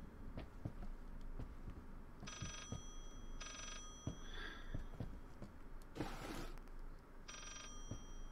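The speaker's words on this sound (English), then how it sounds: "There's a phone ringing somewhere else now." A telephone rings inside the horror video game Layers of Fear, three bursts of ringing with pauses between them that sound somewhat distant, set over a dim background drone and scattered faint thuds.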